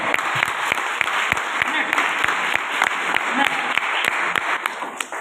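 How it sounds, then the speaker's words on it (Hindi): A seminar audience at a Safe Shop leadership event claps hard and continuously, a thick, steady roar of applause with crisp individual claps popping out at intervals throughout. "जबरदस्त ताली होना चाहिए"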